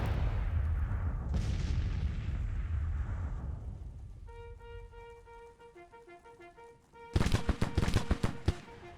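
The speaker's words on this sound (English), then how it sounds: "my artillery is already opening up on it" Artillery fires in the Civil War strategy game Grand Tactician: The Civil War, opening with a heavy boom, then a lull under tonal music, then a loud, rapid cluster of cannon blasts.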